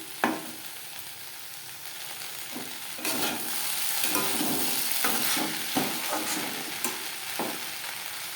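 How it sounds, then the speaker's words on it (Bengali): Okra (bhindi) fried in a pan with little oil over a medium flame, with a continuous sizzle and repeated scraping strokes of a spatula that come in irregular bursts. "আরও 2-3 মিনিট মিডিয়াম ফ্লেমে নাড়াচাড়া করে নেব"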